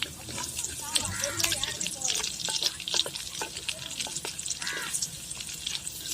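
Curry leaves crackle and sizzle as they sauté in hot oil for a tomato chutney, with a steady, close frying hiss, the odd stir of a spoon, and a faint voice in the background.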